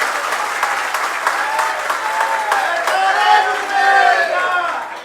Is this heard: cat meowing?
no